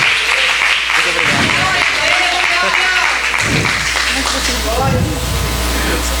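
A church congregation applauds in a sustained, dense wash of clapping, mixed with loud speech and a low hum throughout.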